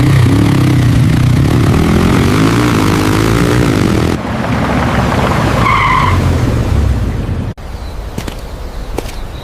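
Cartoon race cars skid in a loud, sustained, screeching rush with an engine-like whine that stops abruptly, followed by a thinner, quieter whoosh.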